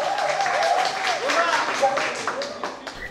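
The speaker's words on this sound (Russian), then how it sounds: "эти аплодисменты звучат специально для вас" A crowd applauds a prize winner at a store's prize-draw event. Steady, dense clapping runs throughout, with a voice carrying over it.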